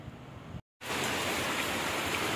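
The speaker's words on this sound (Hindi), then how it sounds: "धूप के साथ बारिश।" Steady rain falling in sunshine, a dense even hiss that cuts out briefly near the start and then continues unbroken, no voices.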